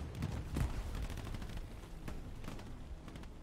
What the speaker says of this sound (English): There's bullets coming from somewhere.